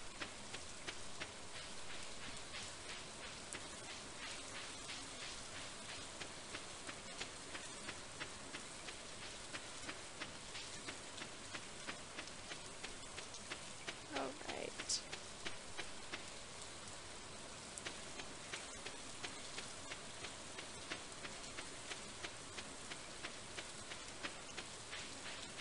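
Steady rain in the Stardew Valley video game, a dense, even hiss of falling drops with faint pattering running unbroken throughout, soft and ambient with no voices.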